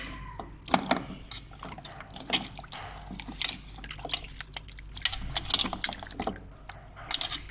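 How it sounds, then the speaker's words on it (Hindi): Clean water splashes and trickles into a bowl holding trotters being cleaned, with irregular drips and sloshing close by, no voices. "हम दूसरा पानी शामिल करते हैं।"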